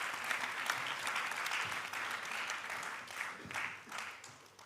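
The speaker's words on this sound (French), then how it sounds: "On me demande donc de rappeler parmi nous Nathalie, qu'on peut applaudir" A conference audience applauding at a plenary session, sustained dense clapping from many hands, fairly distant and steady throughout with occasional louder bursts.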